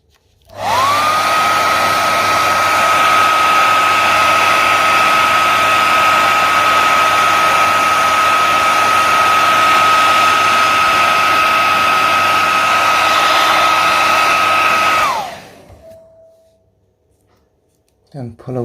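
A heat gun blasts hot air onto a bumper protector on a Xiaomi M365 electric scooter, a loud, steady whooshing roar with a fixed tone that holds for about fifteen seconds before winding down and cutting off.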